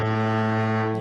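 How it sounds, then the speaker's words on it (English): A foghorn sound effect plays as a live-stream super chat alert, one sustained, deep, droning blast held steady for about a second, loud and alone, with no talking over it. "I like to give him the foghorns because every time they give a super chat, Terrence, they touch down, baby."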